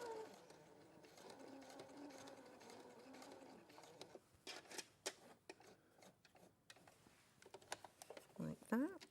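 A sewing machine stitches fabric during a sewing show, with a steady mechanical run early on, then broken bursts of stitching and handling noise, with a voice speaking over parts of it.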